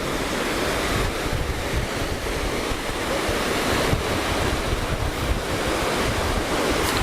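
Sea waves wash steadily onto a beach at Savalaja on Mindoro island in the Philippines around sunset, a continuous near roar of surf mixed with wind buffeting the microphone, with no voices.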